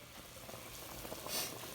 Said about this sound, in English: Okay, so I got my water boiling.